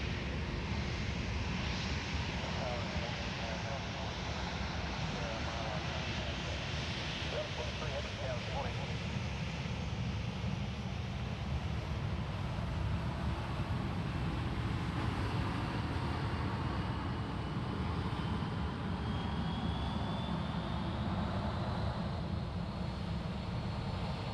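Domestic airliners taxi toward departure at Sydney Airport, a continuous distant jet engine rumble and whine that holds steady throughout, with faint chatter in the background.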